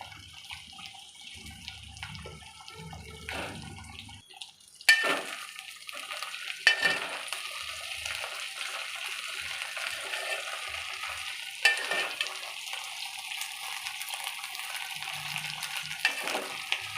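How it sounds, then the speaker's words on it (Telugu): Okra pieces added to a pan of frying cumin give a soft, steady sizzle after a few clattering knocks, with occasional stirring scrapes, close and fairly quiet. "కొంచెం లైట్గా ఫ్రై అయిన తర్వాత ఇప్పుడు బెండకాయ ముక్కలు యాడ్ చేసుకోవాలి"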